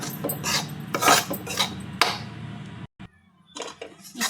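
A spatula stirs coarse besan (gram flour) roasting in a pan for laddu, making close, irregular scraping and rubbing strokes with a brief quiet pause partway through.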